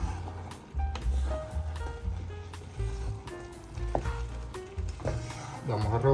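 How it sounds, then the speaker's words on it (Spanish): Squash and rice being stirred together in a pot, with soft scraping and gentle sizzling at close range, a few clinks and bumps of the utensil throughout. "Revolvemos un poco aquí la auyama con el arroz"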